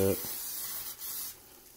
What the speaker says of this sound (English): I'm just going to spray a little more cooking spray on the side that's facing up.